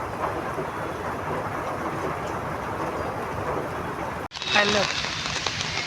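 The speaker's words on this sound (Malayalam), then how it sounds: "മഴയാണെങ്കിൽ നല്ല ഒടുക്കത്തെ മഴയും" A heavy monsoon downpour hisses steadily and loudly for several seconds, a dense unbroken wash of rain. It cuts off abruptly to a different, brighter scene.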